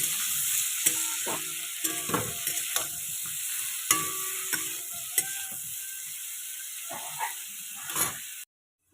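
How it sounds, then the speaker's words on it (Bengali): Brinjal and potato with salt and turmeric are stirred in a pan, giving a run of scraping, clattering spoon strokes over a soft sizzle, close up with no talk. "দিয়ে এবার এটাকে আমি ভালো করে মিক্স করে নেব।"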